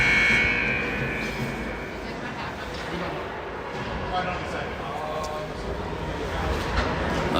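A buzzer sounds at a youth hockey game, Brainerd PW B1 against St. Francis, a sustained tone at the start of the clip under rink noise and crowd murmur, with a commentator talking.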